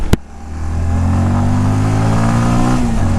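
Bajaj Avenger 220 Cruise motorcycle engine at full throttle, loud and close, a steady rising drone that holds high revs after a brief click at the start.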